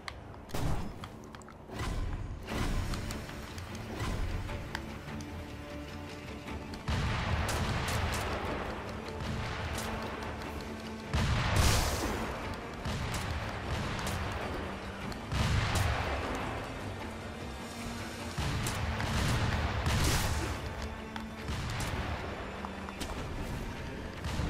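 Enemy gunmen fire at the player in the video game Sekiro, with booming gunshot blasts repeating every few seconds over a dense, continuous game soundscape.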